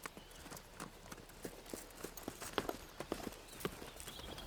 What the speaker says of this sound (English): these horses and their ability to negotiate this incredible terrain